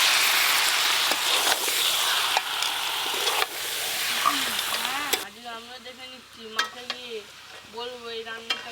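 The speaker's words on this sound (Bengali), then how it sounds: "মশলা মাখানো চিকেন, মাংস দেওয়ার সাথে সাথে ভেজে রাখা ওলগুলো দিয়ে একসঙ্গে সব কষিয়ে নেব ভালো করে।" Chicken in spices and fried yam stir-fry in a pan, a bright, dense sizzle with scraping stirs for about five seconds, after which someone talks over quieter frying.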